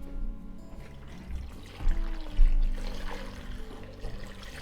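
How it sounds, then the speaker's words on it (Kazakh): Cold water is poured into a pot of fruit and sugar for compote, a continuous close splashing gush that swells briefly in the middle. "Енді ыдыстың бетіне сәл ғана жеткізбей салқын су құямыз"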